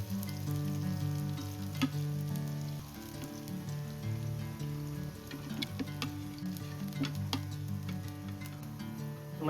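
Shivda fish sizzling and frying steadily in a hot pan of oil, a continuous loud crackle with occasional sharper pops and stirring clinks throughout.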